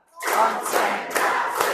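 A standing group claps together during a classroom ice-breaker, a few loud unison claps in a steady counted rhythm, each ringing briefly in the room.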